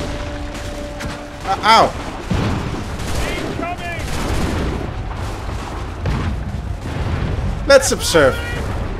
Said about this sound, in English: Okay, that was a big volley.